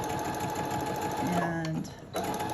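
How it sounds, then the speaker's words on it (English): A sewing machine stitching a half-inch seam, a steady fast mechanical whirring and needle rattle running close and continuous, with a brief faint voice near the end. "So I'm going to sew just a 1/2 inch seam here,"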